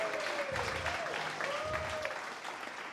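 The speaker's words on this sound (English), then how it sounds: "Big applause for all the participants for what you accomplished this weekend" Hackathon audience applauding participants at a startup weekend event, a fairly faint, continuous patter of clapping from a modest crowd lasting the whole stretch.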